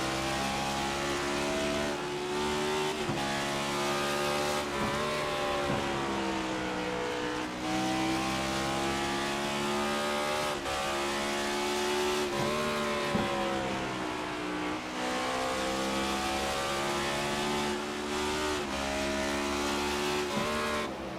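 Onboard engine of the number 49 race car lapping a racing league oval in a 150 event, a loud continuous roar rising and falling through repeated shifts and throttle changes, with no talk over it.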